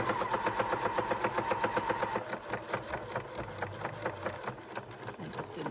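A sewing machine back-stitches on an N95 mask cover, a close rapid mechanical stitching rhythm that slows and varies partway through, with no talking.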